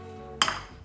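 Breadcrumbs tossed in melted butter in a small pan, a sudden clattery sizzle and scrape of pan contents starting partway through, fairly close and moderately loud, with a low steady hum underneath.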